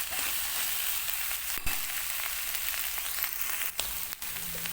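Fried rice being stir-fried in a pan for a Thai home-style recipe, a steady close hiss of sizzling with a few brief scrapes and clacks of the utensil, no talking.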